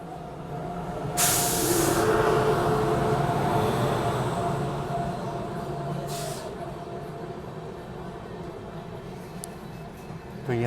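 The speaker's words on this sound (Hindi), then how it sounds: "तो यहाँ पे सत्याग्रह एक्सप्रेस ओवरटेक करके जा रही है हमको।" The Satyagraha Express, a passenger train, overtakes on the railway with a steady rumbling roll and wheel noise, plus bursts of hissing air, heard from a nearby carriage on a dedicated freight corridor.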